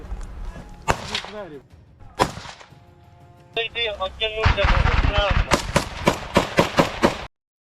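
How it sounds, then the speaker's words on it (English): Machine gun bursts in close-quarters combat during the war in Ukraine, loud sharp cracks at first, then a dense run of rapid shots with tonal ringing and shouting voices mixed in. "Russian troops unleash sustained machine gun bursts, pinning down the Ukrainian advance and halting forward momentum"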